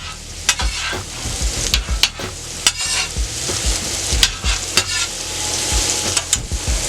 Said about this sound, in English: I'm gonna go ahead and mess with my mushrooms here a little bit